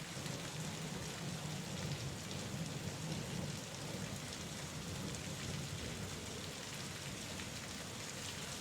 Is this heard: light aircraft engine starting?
no